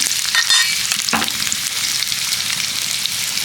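Chopped onion, garlic, ginger and green chili fry in oil for a samosa filling. The sizzle is loud and close, with a sharp stir-and-scrape burst early on before it settles into a constant crackling hiss.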